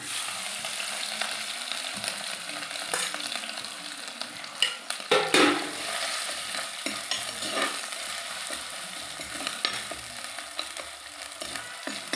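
Crushed ginger, garlic and shallots are stirred and folded in hot oil for a sardine curry, a steady sizzle broken by a few sharp scraping and clinking strokes of the spoon against the pan.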